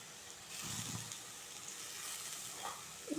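Ingredients for a mango chutney to go with traditional Mappillai Samba rice kanji sautéing in a pan, a steady soft sizzle and hiss running throughout with a few faint scraping touches near the end.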